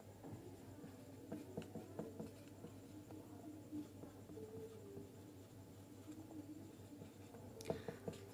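Soft scratching of handwriting during a chemistry class on solid state structures, faint and continuous strokes against a low background hum, no talking.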